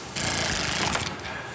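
A pneumatic impact wrench rattles in one sustained burst of rapid hammering, running down wheel lug nuts on a 1970 Road Runner convertible, loud and close, then drops to a lower whir.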